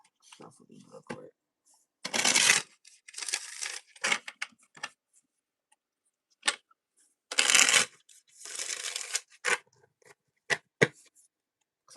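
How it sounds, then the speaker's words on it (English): A deck of tarot cards being shuffled by hand, heard as several short riffling bursts and soft flaps separated by quiet pauses, close and fairly quiet. "I'm gonna shuffle these real quick."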